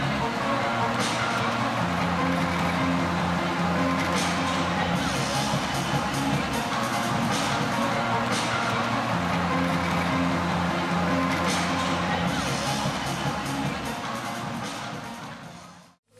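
At half time of a women's water polo match in the Beyond Blue Cup at MSAC, an indoor crowd cheers and chatters loudly and continuously, with shouts and whoops rising and falling before the sound cuts off.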